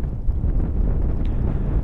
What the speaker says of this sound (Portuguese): Um vento cortante, gelado, gelado.